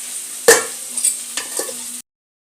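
Fenugreek leaves frying in oil sizzle steadily while a few sharp stirring scrapes and knocks break through, close up, before stopping abruptly; no one talks.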